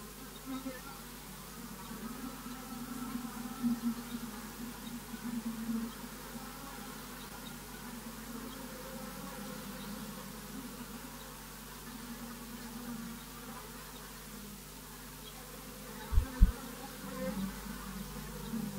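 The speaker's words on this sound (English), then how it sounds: "the bees use the garden of the museum and the surrounding area as their natural habitat" Bees from a hive in a museum garden buzz in a low, continuous hum, with individual insects passing faintly near the microphone and a couple of brief low thumps near the end.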